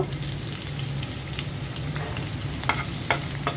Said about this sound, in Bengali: এখন ঢ্যাঁড়সটা ভেজে নেব।